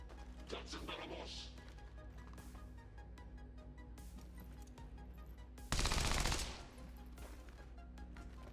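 Gunfire in the turn-based strategy game XCOM, Long War of the Chosen: a single loud burst of rapid shots lasting under a second, rising sharply above a steady, low game background hum.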